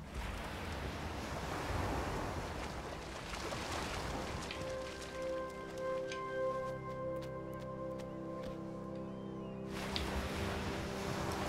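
Waves of rushing water surge across a beach level of the yarn-themed platformer Unravel, a loud continuous wash that persists throughout while sustained musical tones enter midway and fade near the end.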